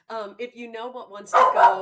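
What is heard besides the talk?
dog barking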